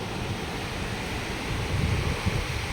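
Sea waves roll in at high tide on Mandarmani beach, a soft, steady wash of surf with a gentle swell of low rumble toward the end, heard at a moderate distance with wind noise mixed in.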